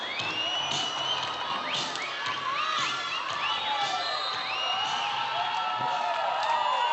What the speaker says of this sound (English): there are some fans up in the stands that are cheering very hard for NCVC